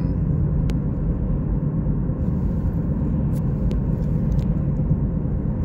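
From inside a 2017 Ford Escape with 62k miles and a transmission shudder, a steady low engine rumble and road drone carries on evenly throughout, with a few faint clicks above it and no clear rev change.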